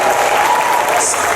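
An audience at a comic con applauds loudly, a dense burst of clapping and cheering with a brief whistle near the end.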